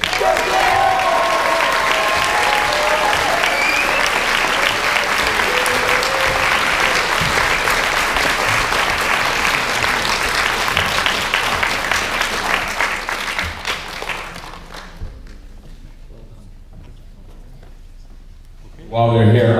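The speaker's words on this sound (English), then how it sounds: "please give a big, big round of applause for Griff Wood." Sustained audience clapping fills a hall at a martial arts black belt graduation ceremony, a dense steady applause lasting about fourteen seconds before thinning out and fading to near silence.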